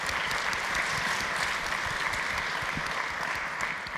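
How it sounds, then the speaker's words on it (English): Steady applause from a large audience at the MIT 100K Launch Competition, dense clapping sustained at an even level throughout with no voices over it. "Let's please give them a round of applause."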